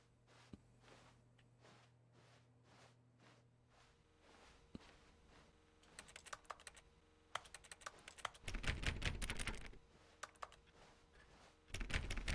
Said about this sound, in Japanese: この決定キーを押すとこのキーボードカチカチするっていうのは